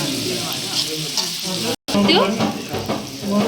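Onion sizzling loudly in hot oil, a dense continuous crackle broken by a brief cut, with faint voices underneath.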